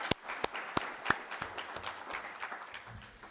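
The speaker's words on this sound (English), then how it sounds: "can we just have a round of applause for all these candidates?" A few loud, separate claps open, then a smaller audience joins in thinner, scattered applause for city council candidates at a Kiwanis Club forum, moderately distant in a meeting room.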